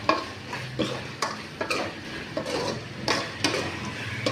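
Steady scraping and stirring of chicken with turmeric in a pan over a soft frying sizzle, with occasional clinks of a utensil against metal, close and moderately loud.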